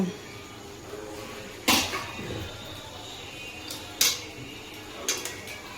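A metal lid lifted off a cooking pot of butter chicken, giving a sharp clank followed later by a couple of lighter clinks, close and fairly loud against a quiet kitchen background.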